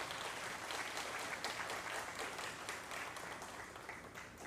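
An audience at a national media conference plenary session at a Jaipur university breaks into dense, sustained applause, many hands clapping steadily before easing off slightly at the end.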